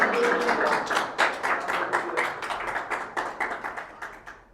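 A congregation at a Sunday church service claps in unison, a steady rhythmic run of many hands beating together at a brisk, even pace, close and fairly loud, with no talking.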